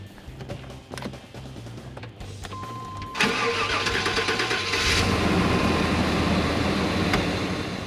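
A few clicks and knocks, then a car engine cranks and catches, settling into a loud, steady running roar nearby.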